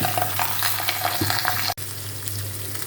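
Parathas frying in hot oil in a home kitchen, a steady close sizzle and crackle running throughout with a brief sharp knock near the middle.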